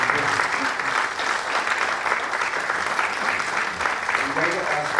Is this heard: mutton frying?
no